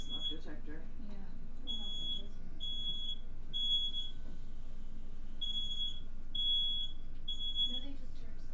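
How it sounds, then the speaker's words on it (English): A smoke detector chirps in a steady series of short, piercing beeps, about eight in all with a brief gap midway, sounding from a little distance over low room noise and background talk. "It's a smoke detector."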